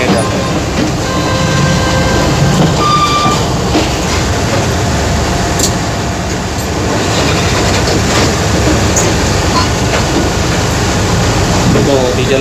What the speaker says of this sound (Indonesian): ini kereta rangkaian Center Express yang sudah tiba di stasiun Medan